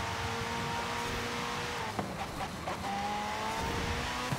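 Race car in Forza Horizon 5 at Sebring International Raceway, a steady engine drone with shifting pitch and brief tire or gear-change bursts midway, continuous and alone without talk.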